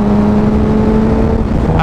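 Sport motorcycle engine droning loudly and steadily on the road while the rider passes a car during a group ride, a constant close roar with a brief shift in pitch at the end.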